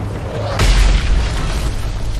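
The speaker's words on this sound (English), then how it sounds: "Mortar incoming!" A mortar shell explodes in the Call of Duty Modern Warfare 3 video game: one loud, deep, close boom that hits suddenly and then rolls into a long rumbling tail, with constant battle noise underneath.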